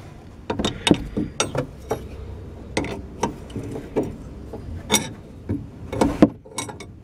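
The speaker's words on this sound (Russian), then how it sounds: "выкручивать, выпрессовывать рулевой наконечник" Metallic clicks and short ratcheting taps while a steering tie rod end is unscrewed on a VAZ 2107, irregular sharp knocks spaced through the clip, close and moderately loud with no speech.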